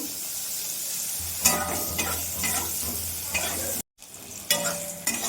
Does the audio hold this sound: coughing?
no